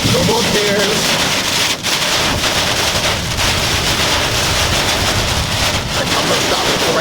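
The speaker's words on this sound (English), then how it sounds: "it is coming down pretty heavily. We're driving in the rain." Heavy rain pounds a moving car during a drive, producing a loud, constant roar of drumming drops mixed with wind rush, with brief heavier spatters throughout.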